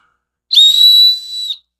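An emergency whistle from a Bear Forest Knives survival kit is blown once, a shrill, piercing steady tone lasting about a second, loud and close with no other sound.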